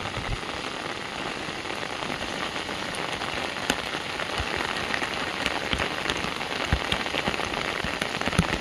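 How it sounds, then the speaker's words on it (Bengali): Heavy rain pours steadily onto open fields, a dense, continuous hiss with scattered louder drops, close and unbroken for the whole stretch with no voices. "এত জোর বৃষ্টি হচ্ছে।"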